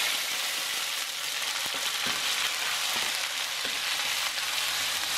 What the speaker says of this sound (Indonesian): Kita tumis dulu bumbunya.